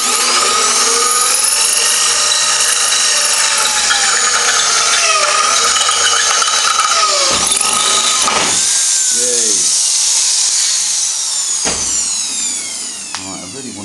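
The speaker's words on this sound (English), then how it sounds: "waggle the drill around, but it seems to be getting it to bite in" Power drill boring through 10mm thick stainless steel plate, a loud continuous grinding whine close by that wavers as the bit is rocked to bite, with brief breaks and spindle slowdowns toward the end.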